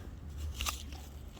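A single crisp crunch of teeth biting into a firm, juicy winter pear, close and brief against a quiet background.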